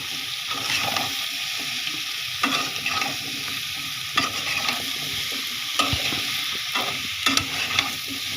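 Dried ribbonfish frying in a pan while being stirred: a loud continuous sizzle punctuated by repeated scraping and tossing sounds, with no speech.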